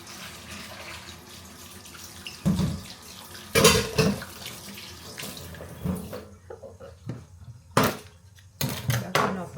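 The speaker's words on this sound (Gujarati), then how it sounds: "સરસ પાણીમાં ધોઈ નાખીએ." Potatoes are rinsed under a running kitchen tap, with a steady stream of water splashing into a sink and intermittent louder gushes and clatters as they are handled.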